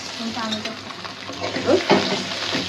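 Onions and prawns fry in a hot pan, a loud continuous sizzle broken by the scrape and clatter of a spoon stirring them around.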